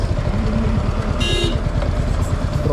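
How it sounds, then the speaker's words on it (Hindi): A Royal Enfield Hunter 350 motorcycle engine runs close by with a steady low thumping beat throughout, and a brief high electronic beep sounds partway through. "तो मैं इसको इंजन ऑन करता हूँ"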